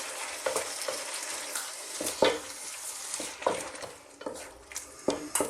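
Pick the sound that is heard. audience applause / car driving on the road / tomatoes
tomatoes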